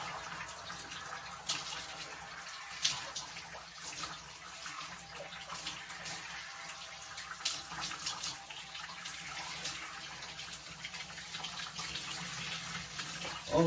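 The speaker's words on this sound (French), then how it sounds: "Et on rince. On rince une première fois en arrière." Running water rinsing shampoo out of a man's hair, a faint steady splashing stream with small irregular surges, continuous throughout with no talk.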